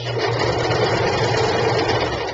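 A sewing machine runs steadily and loudly, stitching forward and back across a shabby chic handmade sachet bag, with a continuous close-up motor whir and no talking.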